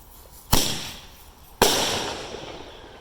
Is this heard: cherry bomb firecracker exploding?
yes